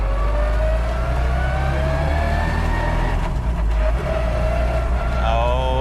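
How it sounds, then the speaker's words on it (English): A 1965 FIA-registered rally Mini Cooper S with straight-cut gears accelerates up close. A loud engine drone carries a high gear whine that climbs in pitch, drops at a shift near the end, then climbs again. "it has straight cut gears, so it's going to have that whining sound"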